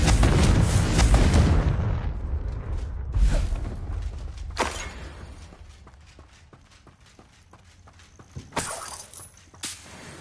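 Spell blasts from the Confringo fire-explosion charm in Hogwarts Legacy on PS5: a loud booming burst opens, followed by several sharper impacts and crackles at intervals, with quieter stretches of rumble between.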